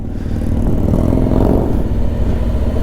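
A Harley motorcycle rumbles steadily nearby, its deep exhaust note swelling slightly in the middle, with no voices.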